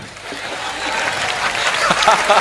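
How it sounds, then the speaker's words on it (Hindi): Loud, sustained applause from a large crowd at a poetry event, steady throughout, with faint voices mixed in. "तालियां बजाओ"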